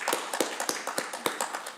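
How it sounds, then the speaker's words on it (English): Applause at a school committee meeting comes as scattered, fairly soft claps from a few people, loosely spaced over a low room hum. "Another round of applause is warranted."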